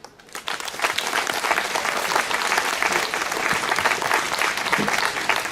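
Applause from a crowd gathered at a speech ceremony at a pagoda in Vincennes swells quickly after a quiet start, then stays as thick, sustained clapping to the end.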